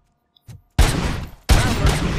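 Gunfire in the Robocop Rogue City video game: two loud, close bursts of rapid shots, each lasting most of a second, after a short quiet gap and a faint single pop.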